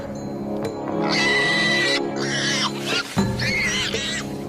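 A dragon imitates the distressed cry of injured prey, a run of shrill, wavering calls, some rising and falling like a whinny or squeal, repeated several times over a steady low background.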